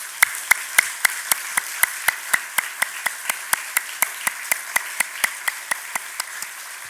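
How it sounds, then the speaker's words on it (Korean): Congregation at a Korean church Sunday worship service clapping together in steady unison: about two dozen crisp, evenly spaced claps in a strict rhythm, heard clearly in a quiet room. "우리 모든 교인들을 축복하는 뜨거운 박수를 하나님께 올려드리겠습니다"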